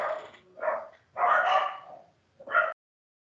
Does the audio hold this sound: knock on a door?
no